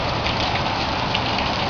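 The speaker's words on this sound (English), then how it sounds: "look at all this fucking rain and all this fucking flash floods and shit" Heavy rain pours steadily during flash flooding in the Phoenix, Arizona desert in 2013, a dense, unbroken hiss of drops that stays close and loud throughout, with no voices.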